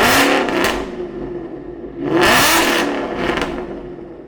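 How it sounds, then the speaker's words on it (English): A Ford Mustang with stainless power headers and a CORSA Xtreme exhaust revs sharply three times, each loud, close blip rising and falling back to a rough idle in between. "And some revs."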